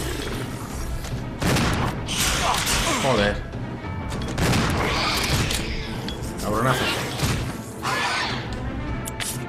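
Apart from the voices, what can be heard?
shotgun firing in Resident Evil 0 HD Remaster video game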